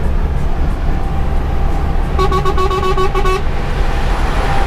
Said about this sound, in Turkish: Ama korna güzel çalıyor lan senin.